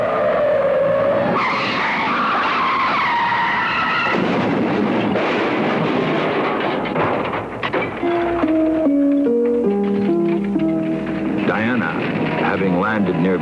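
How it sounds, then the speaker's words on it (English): A car on a highway skids out of control, loud tire screeching and squealing that rises and wavers over several seconds, with engine roar and talk also present. "a car on the nearby highway went out of control, veering away from an oncoming drunken driver"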